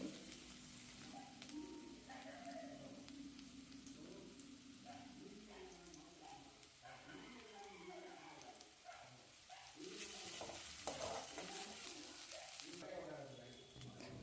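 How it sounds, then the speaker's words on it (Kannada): Green chillies sizzling in oil in a pan while cooking dal khichdi, a steady hissing fry running throughout under continuous talking. "ಹಸಿಮೆಣ್ಸಿನ್ಕಾಯಿನ ನಾನು ಆ್ಯಡ್ ಮಾಡ್ಕೊತಾ ಇದ್ದೀನಿ ಇದು ನೆಕ್ಸ್ಟು ಫ್ರೈ ಆಗಬೇಕು"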